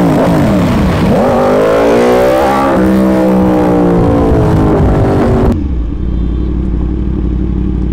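Modified Yamaha R1 sport motorcycle engine revving hard up and down close by, loud rising and falling whine that drops to a deep steady idle rumble near the end.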